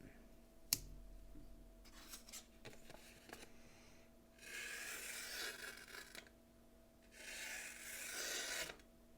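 A small sheep's foot pocketknife blade cuts through paper up close, with a few light clicks and rustles before two long, steady slicing rasps, fairly quiet in a still room.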